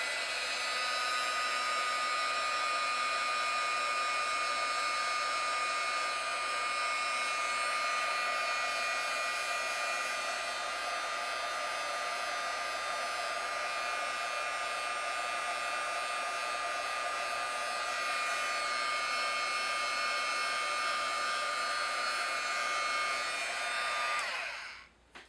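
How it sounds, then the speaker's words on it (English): A heat embossing tool blows hot air steadily over embossing powder on a rubber-stamped card, a loud continuous whirring hiss lasting throughout with no talk, then cutting off abruptly at the end. "So I held my heat tool about 2 inches above the embossing."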